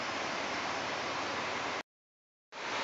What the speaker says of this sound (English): I'll go by the top of the waterfall.